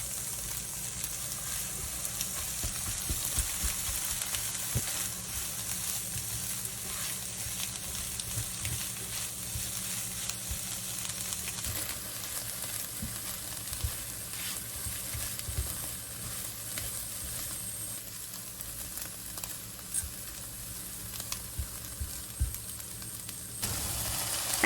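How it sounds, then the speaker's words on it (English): Carrots and onions stir-fried for shrimp fried rice, a constant loud sizzle and hiss from the hot pan, with intermittent rustles and scrapes as the vegetables are tossed. "Add the carrots and onions and stir fry for 1 to 2 minutes."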